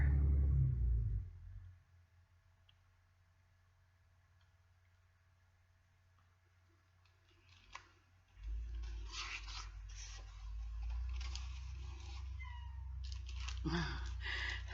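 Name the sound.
domestic cat meowing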